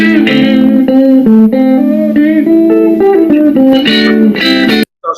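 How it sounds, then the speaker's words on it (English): An undistorted electric guitar plays a quick run of clean plucked notes and chords, loud and close, with no voices, before cutting off at the end. "Here is the sound of a regular guitar."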